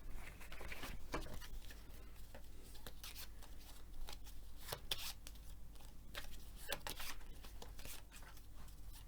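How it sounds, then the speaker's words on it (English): Cartographers game cards being shuffled on a tabletop, giving soft repeated papery riffles and taps spread across the stretch at a low, steady level with no talking. "Do you want to shuffle them in?"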